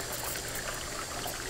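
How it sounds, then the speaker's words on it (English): Hot water poured slowly out of a pot of cooked eggs for pickling while cold tap water runs over them, a steady close trickling and splashing that stays even throughout. "I'm gonna start slowly pouring out the hot water"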